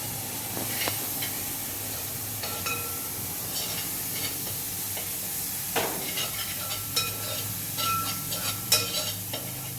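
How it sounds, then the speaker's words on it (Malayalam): Crushed onion and garlic sizzle as they go into a pan of frying beef for a Kerala-style beef roast, with a steady close hiss broken by scraping stirs and light clinks of a spatula. "നമുക്ക് ഉള്ളിയും വെളുത്തുള്ളിയും കൂടെ ചതച്ചിട്ട് കൊടുക്കാം"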